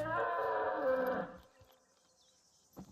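A sambar deer in The Hunter: Call of the Wild gives a long, loud, droning mating call that fades into near silence, followed by a brief faint rustle.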